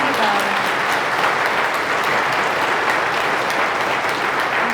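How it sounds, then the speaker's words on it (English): A graduation audience gives teachers a sustained, dense round of applause that stays loud and even throughout. "can we have a little bit of a round of applause for these teachers?"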